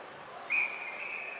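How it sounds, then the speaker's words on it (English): One short, shrill referee's whistle blast signalling offsides rings out over crowd noise at a men's college ice hockey game, fading into a lingering tone. "And another whistle, another offsides."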